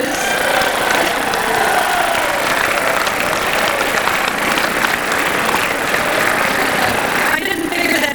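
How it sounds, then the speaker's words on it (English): A large audience at a formal correspondents' dinner applauds continuously, a dense wash of clapping from many hands that holds steady and eases slightly at the end. "I didn't figure that'd be an applause line"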